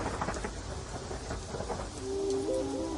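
A thunderstorm sound effect of steady dense rain with a low rumbling thunder roll, fairly loud and continuous, with a faint musical tone entering near the end and no speech.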